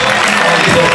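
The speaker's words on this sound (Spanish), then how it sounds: "Un fuerte aplauso a nosotros, señores, muchísimas gracias" Audience applause after a chirigota performance, a dense steady wash of clapping from a crowd, loud and continuous, with voices mixed in.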